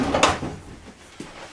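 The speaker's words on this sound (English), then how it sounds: "Pots and pans drawer." Pots and pans drawer in the kitchen of a 2019 Wildwood 26DBLE Limited Edition RV sliding open or shut, a close wooden thump and rattle followed by a smaller knock, with no speech.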